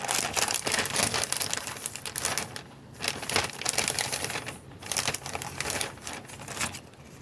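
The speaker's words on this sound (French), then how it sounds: "mais avant ça, je vais mettre une petite chute de papier." A small scrap of paper is handled and pressed onto a scrapbook page, giving close, continuous crinkling and rustling with short pauses.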